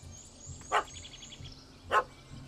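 In The Witcher 3: Heart of Stone, a dog barks twice about a second apart after chasing a cat up a tree, moderately near over a quiet game ambience.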